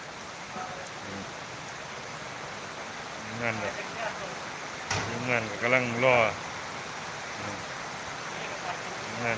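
Steady rain hisses in the background while someone speaks over it for a few seconds.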